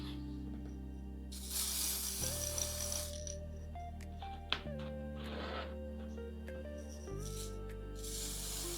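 Spray paint hisses from an aerosol can in three separate bursts, each a few seconds or shorter, against steady background music.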